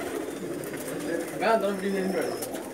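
A special pigeon gives a soft, close cooing call lasting under a second, over a low background hum with faint voices nearby.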